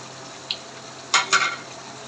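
Spoon scraping and stirring ground masala into chicken korma in a pot, with a faint tap, then two short close scrapes over a soft steady background.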